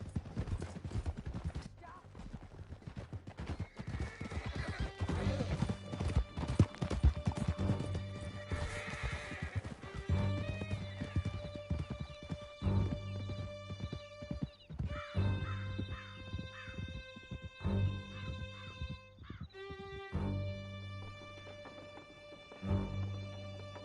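Horses in Red Dead Redemption 2 gallop with steady clip-clop hoofbeats and occasional neighs and whinnies, under a game music score.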